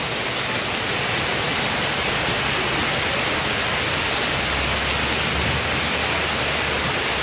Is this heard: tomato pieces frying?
no